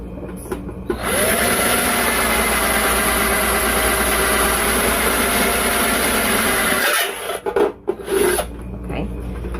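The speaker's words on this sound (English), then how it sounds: "I'm trying to let the drill actually do the work for me instead of putting pressure on it so I don't break this" A power drill bores steadily through a plastic light shade, a continuous close grinding whir lasting several seconds before stopping, followed by brief handling clatter.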